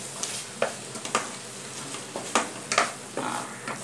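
Goat liver fries in a pan with a steady soft sizzle, broken by several sharp scraping stirs of a spatula, close up.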